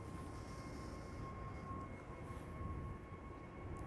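Steady low rumble and whine of an Airbus A321neo airliner in retro livery taxiing at Schiphol Airport, distant and continuous with a faint high tone, no talk.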